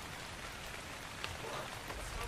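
Steady rain falls in ARK Ascended, a soft continuous hiss of drops pattering on surfaces, fairly quiet and unbroken, with no talking over it.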